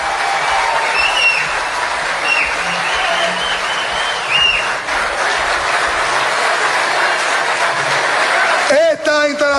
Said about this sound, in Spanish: Que se sienta el aplauso.